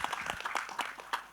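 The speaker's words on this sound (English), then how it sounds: "So this is that applause for them." A few scattered, uneven claps from an audience at a media Q&A in Mumbai, sparse individual hand claps rather than full applause, fairly faint and short.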